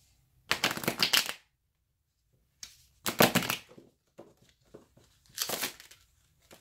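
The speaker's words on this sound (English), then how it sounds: "One more shuffle." Tarot cards shuffled by hand in three separate bursts, each a quick papery riffle lasting under a second. A few faint taps and rustles fall between bursts, close and fairly quiet, with no talk.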